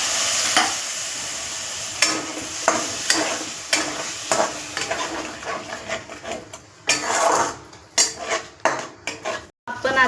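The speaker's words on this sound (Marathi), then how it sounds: "मसाला आता एकजीव करून घेऊ।" A spoon scrapes and clatters in a pan as egg masala curry with red chili powder is stirred over heat, with a steady sizzle under repeated close metallic knocks and no talking.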